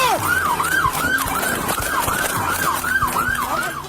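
A loud police siren wails rapidly up and down in a continuous, repeating cycle, close by, with traffic rumble underneath, during a police chase.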